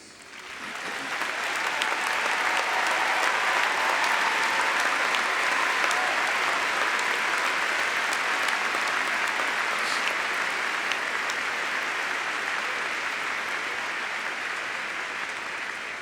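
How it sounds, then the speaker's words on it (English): Sustained applause from a large commencement crowd saluting the faculty at a 2017 Xavier undergraduate ceremony, swelling in within the first second and holding steady and loud for about fifteen seconds without talk. "rise so that you may salute them with your kind applause"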